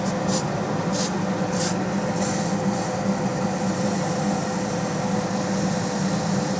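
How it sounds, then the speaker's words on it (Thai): A deodorant spray can fires several short hissing bursts over the loud, steady whir of a water-curtain airbrush spray booth's fan. "อันนี้เป็นสเปรย์ดับกลิ่นนะ"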